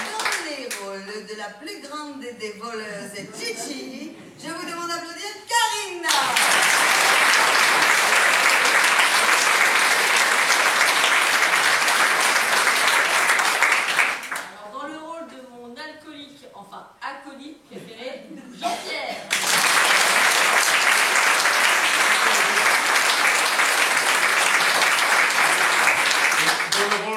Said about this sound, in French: je vous demande d'applaudir Karina.